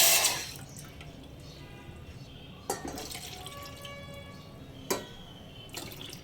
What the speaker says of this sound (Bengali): সেই একই চায়ের কাপ মেপে আমি তিন কাপ জল দিয়ে দেবো